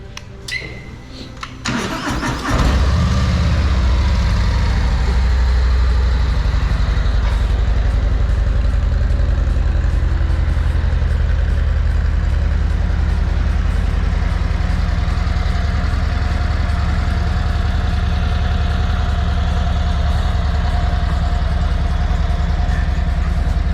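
A motorcycle with a 117 cubic inch motor cranks and fires up after a brief pause, then settles into a loud, steady, deep rumbling idle close by for about twenty seconds.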